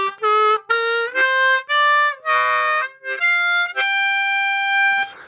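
Harmonica playing a natural minor scale note by note, including overblown notes, each tone clear and sustained with short breaths between, loud and close, with no talking.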